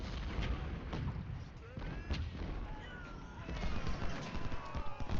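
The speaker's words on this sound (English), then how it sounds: "I'm going to have our artillery take up a firing position" Cannon fire in a Civil War strategy game, repeated booming shots layered over a constant rumble of distant gunfire and battle noise, with someone talking throughout.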